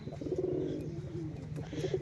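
A friendly, tame single male pigeon perched on a hand coos softly in low, rolling, repeated phrases, close and fairly quiet, with no talking.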